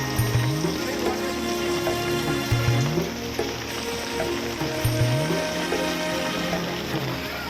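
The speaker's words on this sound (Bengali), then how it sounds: "কিছু দূর আসার পর ধারে বৃষ্টি নামল" Steady rain hisses down during a boat trip in the Sundarbans, with a low engine drone and recurring rising mechanical tones underneath; continuous and fairly close, with no talk.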